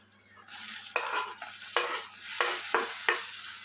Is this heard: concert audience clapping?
no